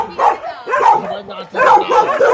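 A dog barks in short, repeated bursts at a river outing in Jamaica, with people talking close by throughout.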